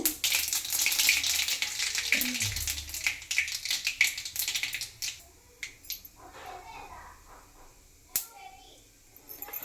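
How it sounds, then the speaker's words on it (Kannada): Mustard seeds spluttering and popping in hot oil for a vegetable stir-fry, a dense crackling sizzle that fades over several seconds as a voice talks over it. "ಎಣ್ಣೆ ಕಾಯ್ದಿದೆ ಸಾಸಿವೆನ ಹಾಕ್ತಾರೆ ಸಾಸಿವೆ ಸಿಡ್ದಾನೆ ಕರಿಬೇವು ಹಾಕ್ಬೇಕಾಗುತ್ತೆ"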